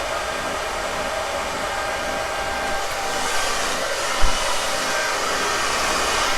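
A hair dryer blows steadily and loudly on a handlebar mustache, a constant broadband rush with one brief bump partway through and no talking.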